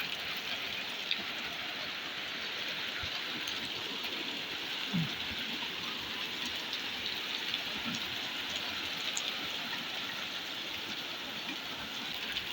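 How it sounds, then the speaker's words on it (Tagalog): Hail mixed with rain falls on a car roof, a dense, steady patter and hiss of drops and ice pellets continuing evenly for over twelve seconds with no talk. "Kasama yung yelo sa ulan."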